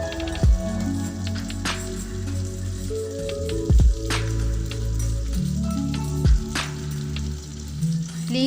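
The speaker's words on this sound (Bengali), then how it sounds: "মাছটা ভাজা হতে থাক" Small fish frying in a pan: steady loud sizzling and crackling with a few sharp pops, heard close up and with no talking.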